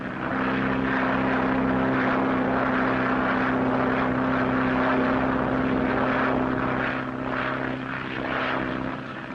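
A propeller-driven airplane on a long transatlantic flight in 1937 drones steadily at cruise, a continuous buzzing engine hum with a strong low tone, even and unbroken throughout.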